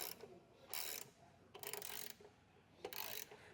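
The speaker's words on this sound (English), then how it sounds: "we're going to take our 16mm socket, and I'm just going to tighten this bolt here all the way down" Socket wrench with a 16mm socket tightening a bolt on a Nerf bar bracket of a 2024 Chevrolet Colorado: three short bursts of rapid ratchet clicking, close and crisp, with brief pauses between strokes.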